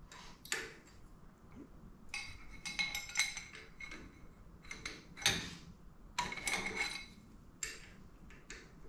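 Metallic clinks and ticks of bolts being loosened and removed from a milling machine, scattered sharp taps and rattles at close range over quiet background.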